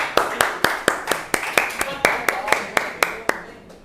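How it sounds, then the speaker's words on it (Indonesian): An audience at a classroom microteaching session claps for prize winners just announced: a sparse, slightly uneven round of individual hand claps, close and distinct, with a few voices murmuring underneath. "Tepuk tangan semuanya"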